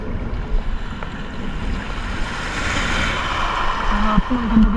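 Strong wind at sea buffets a small fishing boat off Eastern Samar, a continuous roaring rush with water sloshing and gusts swelling toward the end, close and loud, with no talking.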